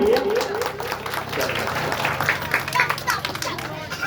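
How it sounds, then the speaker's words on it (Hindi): A crowd at a Ravidas Jayanti gathering claps for a guest, dense applause running for several seconds with chatter and a voice over it. "एक बार जोरदार ताली हो जाए इनके लिए।"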